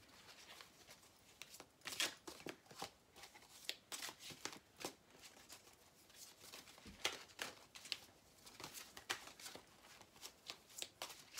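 Tarot cards are shuffled for a reading in repeated soft riffling bursts, each a quick papery flutter with small taps between, close and quiet with no talking.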